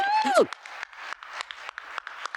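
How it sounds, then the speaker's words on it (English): An audience at a public listening session in Harlem, New York City, applauds; scattered clapping continues steadily after a whoop from a voice at the start. "Give yourself a round of applause for being here."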